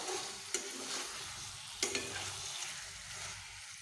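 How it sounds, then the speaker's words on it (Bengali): Fried vegetables for a vegetarian taro dish are stirred with spices in a hot pan: a soft sizzle under a few distinct spatula scrapes and knocks against the pan. "এবার আমি এগুলোকে মশলার সঙ্গে বেশ ভালোভাবে মিশিয়ে নেব।"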